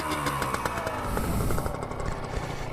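A small two-stroke Honda MB5 motorcycle engine runs with a rapid, rattly buzz, revving slightly up and down, loud and close.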